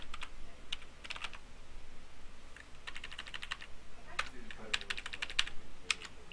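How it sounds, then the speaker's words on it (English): Typing on a computer keyboard in Word, with quiet irregular bursts of key clicks in short runs separated by brief pauses, close to the microphone over a faint steady background hum. "you can start typing."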